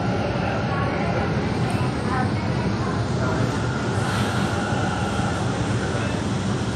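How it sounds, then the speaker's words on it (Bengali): Metro train departing a station and running steadily, with a dense continuous rumble and rolling roar filling the carriage throughout, a voice speaking over it. "ট্রেন কিন্তু ছেড়ে দিয়েছে দেখো।"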